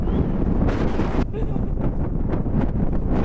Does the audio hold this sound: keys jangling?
no